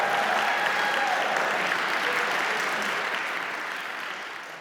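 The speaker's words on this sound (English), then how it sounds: "Can we give a final round of applause to all our speakers tonight?" Audience applause closes a TEDxYouth evening at St. Mark's School in Southborough, Massachusetts, a dense steady clapping from a large crowd that slowly thins and fades toward the end, with no voices over it.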